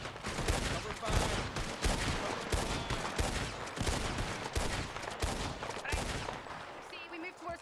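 Heavy video game gunfire laying down cover fire near a hillside house, loud repeated bursts and single shots crowding together without letup, with faint voices underneath.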